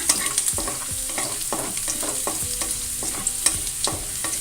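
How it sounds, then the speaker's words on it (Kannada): Garlic and ginger fry in a pan for baby corn Manchurian. A constant sizzle sits under regular spoon scrapes and taps that come about every half second. "ಬೆಳ್ಳುಳ್ಳಿ ಮತ್ತು ಶುಂಠಿ ಇದು ಸ್ವಲ್ಪ ಇದರಲ್ಲೇ ಫ್ರೈ ಆಗಬೇಕು"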